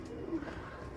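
Pigeons coo in a soft, low, throaty murmur at close range, one continuous rolling call lasting about a second with no talking.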